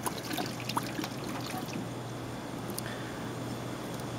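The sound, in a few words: beer being poured into a crab pot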